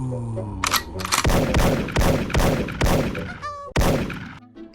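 Gunfire in the Call of Duty Mobile video game: several loud, sharp shots in quick succession, each with a booming low tail, close and prominent, with a brief higher-pitched game tone near the end.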